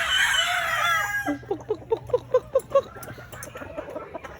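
Chickens and a rooster on a backyard farm: a rooster crows loudly up close, followed by a rhythmic series of clucks and calls from the flock, with other birds faintly in the background.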